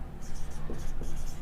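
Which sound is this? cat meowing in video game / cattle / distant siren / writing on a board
writing on a board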